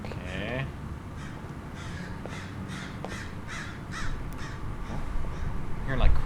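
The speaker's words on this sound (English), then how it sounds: "I'm hearing like crows." Several crow caws repeat at a steady pace as ambience in the horror video game Liminal City, set in a creepy abandoned city, heard over a low background rumble with a louder thump near the end.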